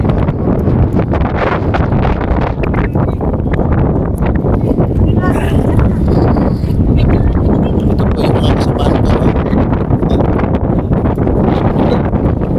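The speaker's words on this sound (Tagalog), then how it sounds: "Sobrang lakas ng hangin." Strong wind on Tinawagan Hills roars loudly and continuously across the microphone, a dense rumbling buffet with rustling bursts that lasts the whole stretch.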